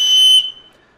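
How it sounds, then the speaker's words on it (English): A high-pitched emergency whistle on a 6-in-1 kitchen gadget gives one loud, piercing shrill blast with bright overtones, cutting off sharply after about half a second and leaving a brief fading ring. "it has a high-pitched emergency whistle"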